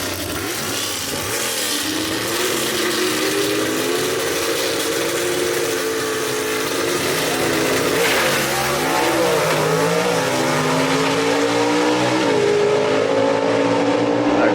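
Gasser drag race cars at Kil-Kare Dragway roar down the strip, a loud sustained engine howl with rising pitch sweeps as gears change, heard from trackside without talk.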